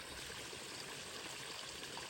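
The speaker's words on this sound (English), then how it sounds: "This comes down, drops into this pond, where this little bridge is. Built this little waterfall" A small homemade backyard waterfall spills into a pond beneath a little bridge, giving a soft, steady trickling rush heard faintly and alone.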